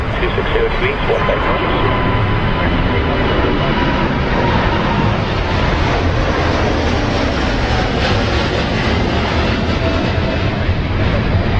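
Boeing 787-9 airliner departing London Heathrow, a loud, sustained jet engine roar close by with a broad rushing texture and steady intensity.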